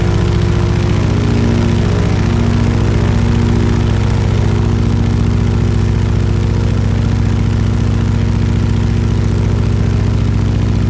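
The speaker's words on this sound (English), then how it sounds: "enjoying having your eardrums busted by the awesome sound of that radial engine" A loud, steady droning radial engine of a PT-17 Stearman biplane in Microsoft Flight Simulator runs continuously with a deep throbbing rumble and no pauses or voices.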